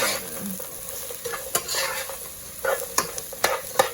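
Tofu with garlic and onions stirred in a hot pan: a soft sizzle underneath sharp, irregular scrapes and clicks of the utensil against the pan, close and quiet, with no talk.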